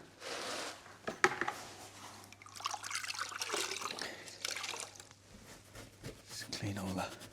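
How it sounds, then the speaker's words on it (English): A car body is washed with soapy water from a small bucket, giving splashing, trickling and dripping sounds close by, with a sharp knock early on and speech over parts of it. "So I've just got a little bucket with some bit of soapy water."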